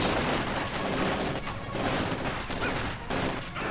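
Sustained battlefield gunfire from Company of Heroes 2, a dense unbroken fusillade of rifle and machine-gun bursts at moderate volume with nobody speaking over it.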